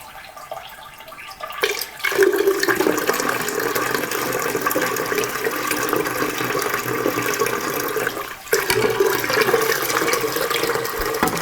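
Water is poured slowly from a container to measure out cups, a steady close-up rushing trickle that begins after a quiet moment, breaks off briefly, then resumes.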